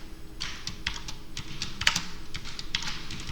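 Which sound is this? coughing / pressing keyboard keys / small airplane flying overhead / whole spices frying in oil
pressing keyboard keys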